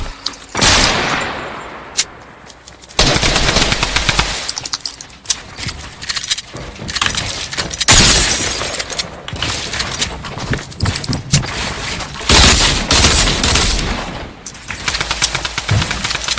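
Gunfire in the video game Fortnite, loud and close, with rapid bursts of automatic fire and sharper single shots recurring throughout and little pause between volleys.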